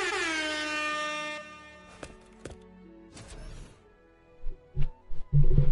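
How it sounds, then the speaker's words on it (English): A loud air horn sound effect blares for about a second and a half, followed by scattered thumps and bumps, with a few heavier knocks near the end. "Simon Says air horn."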